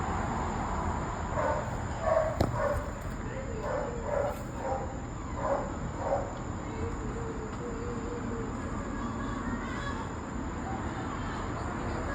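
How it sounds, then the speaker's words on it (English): A dog barks in scattered bursts in the distance, faint against a steady background hiss, with some muffled voices. "You hear the dog out there."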